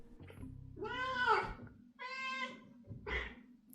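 A house cat meows three times in quick succession, close and fairly quiet, each call rising and falling, with a low steady hum underneath.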